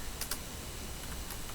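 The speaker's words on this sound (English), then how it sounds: "I will now install it by typing sudo, then I will say apt" Keys clatter on a computer keyboard as a terminal command is typed, a few quick clicks early on and a lone tap later, set against a steady hiss of background noise.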